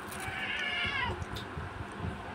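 A cat meows once, a drawn-out whining call near the start, followed by quieter shuffling and soft background noise.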